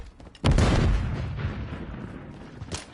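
A grenade blast in Call of Duty: Modern Warfare 3, a single loud, close boom that bursts in suddenly and rumbles away over a couple of seconds, followed by a brief sharp crack.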